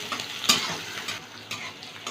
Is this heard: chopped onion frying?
yes